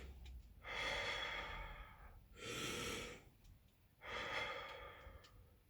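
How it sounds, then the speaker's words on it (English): A man demonstrates deep breathing for health, with three long, slow breaths drawn in and out at an even pace, each lasting about a second and a half and separated by short pauses, close and fairly quiet with no talking. "He has to take deep breaths like"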